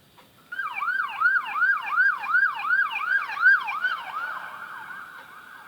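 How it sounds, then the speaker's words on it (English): A passing police car siren wails in a steady repeating up-and-down cycle, loud and prominent before trailing off slightly as the vehicle moves away. "Let's have a look at this moving police vehicle."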